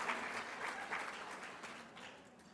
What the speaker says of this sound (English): Let's give our Latinos brothers and sisters and on Broadway a big round of applause